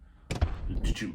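Two quick mechanical clunks of a Ford Raptor paddle shifter, sped up, sound in close succession over a faint background hum, sharp and fast.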